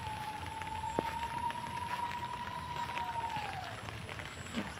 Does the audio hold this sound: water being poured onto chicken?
no